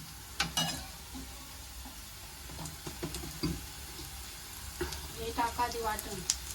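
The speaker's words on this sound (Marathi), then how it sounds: "मस्त कांदा थोडासा झालेला आहे थोडासा लाल झाला की मग आपण वाटण टाकून घेऊ" Onion frying in a pan for a fish curry, a soft steady sizzle broken by scattered clinks and scraping stirs, heard fairly close with no talk over it.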